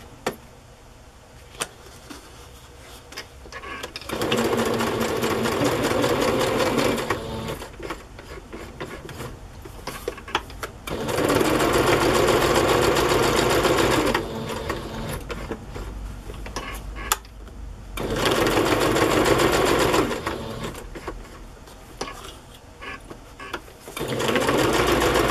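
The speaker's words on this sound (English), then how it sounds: "so I'm going to sew that on there" A sewing machine stitches a label onto a pocket, running in three long bursts of rapid mechanical whirring, each several seconds long, separated by quieter pauses with handling clicks.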